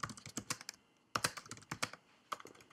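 Bursts of keystrokes on a computer keyboard in clusters with short pauses, typing a database query, close and clear with no talking.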